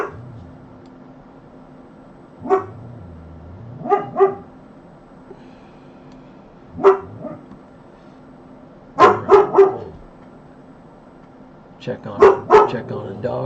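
A dog barks in short bursts, several sharp yips and barks spaced out over steady background hum, some in quick clusters, fairly close, during live storm coverage of a hurricane hitting Cuba.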